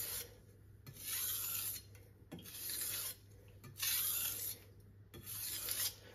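A knife is drawn across a sharpening stone in single slow strokes, alternating sides, giving about four rasping scrapes separated by short pauses, close and fairly quiet with no talk.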